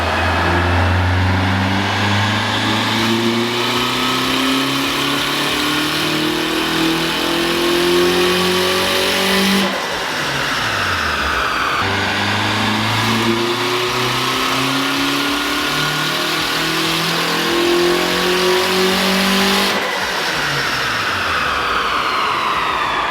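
A turbocharged Honda Civic K20 engine roars through full-throttle pulls on a dyno, with its pitch climbing steadily before it drops off, then rises again in a second long run, loud and close.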